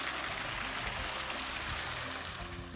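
A cold mountain stream in Uttarakhand rushes steadily and close by, a continuous broadband wash of flowing water that holds at an even level throughout, with no voices.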